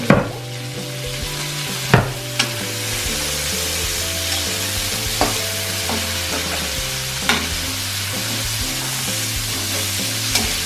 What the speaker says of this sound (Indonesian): Jadi untuk cabenya itu nggak usah ditumis terlalu lama, yang penting udah agak layu.